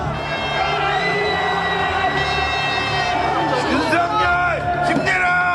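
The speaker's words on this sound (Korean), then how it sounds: "한남동 관저 앞에 모인 사람들은 환호했습니다" Supporters gathered outside the Hannam-dong presidential residence, with a crowd cheering and shouting and voices mixing into a steady din. Whistles or horns rise over the cheers toward the end, all at close to middle distance.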